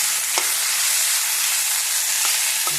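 Sliced potatoes fry in a pan with spices, giving a steady broadband sizzle close up, with a few brief clinks or stirring taps scattered through it and no voices.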